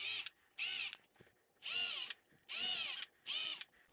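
A power drill bores into a cabinet drawer front during a tip-out tray installation, running in several short loud bursts with brief pauses between, close and alone.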